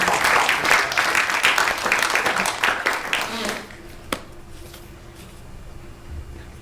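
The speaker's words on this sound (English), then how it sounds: "but let's clap it one more time," Audience clapping together at a nonviolence training event, a dense burst of applause for a few seconds that cuts off sharply, leaving quiet room tone with a single faint knock afterward.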